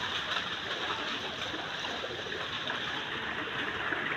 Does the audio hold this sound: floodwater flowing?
yes